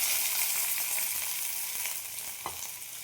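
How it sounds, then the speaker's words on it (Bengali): Onions frying in a pan during home Bengali cooking of a pointed gourd and eggplant mash, a steady close sizzle with faint stirring scrapes. "পেঁয়াজ ভেজে নেব"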